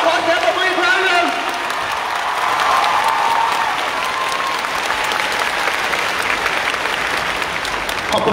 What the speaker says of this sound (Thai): ขอเสียงปรบมืออีกครั้งหนึ่งขอเสียงปรบมือได้อีกครั้งหนึ่งทั้งซ้ายและขวา